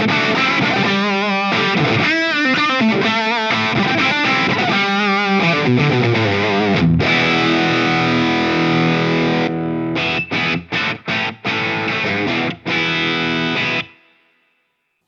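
An electric guitar plays through a Tsakalis AudioWorks Mothership tube preamp on a high-gain setting: heavily distorted sustained notes and riffs, then tight staccato chugs with short gaps before ringing off and stopping.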